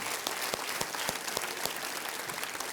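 Studio audience applause on an Indian television quiz show, a fairly soft, continuous roll of clapping with a few sharper individual claps standing out, no speech over it.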